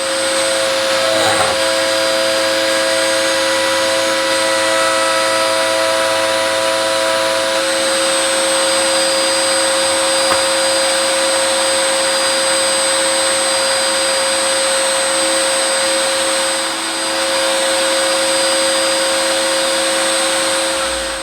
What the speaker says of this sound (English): Just gradually bring the cutter up, and that should give me the shape of effectively the die for the louver.